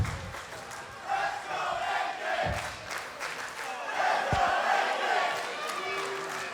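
A wrestling crowd at a TNA No Surrender World Tag Team title match cheers and roars steadily in a large arena, with a few thuds from the ring and some voices rising over the din.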